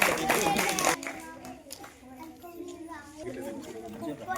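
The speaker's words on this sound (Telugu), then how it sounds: "అరే క్లాప్స్ పిల్లలు." Children clap at a village primary school prize-giving, a loud dense round of applause lasting about a second before fading, with voices talking through the rest.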